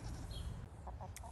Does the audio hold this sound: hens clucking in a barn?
yes